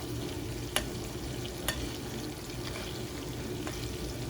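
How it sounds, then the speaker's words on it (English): Salmon fillet frying in a tilted pan of lemon garlic butter, with a steady close sizzle under a couple of metallic spoon clinks as the butter is basted over the top. No voices are heard. "You just spoon over that butter mixture over top."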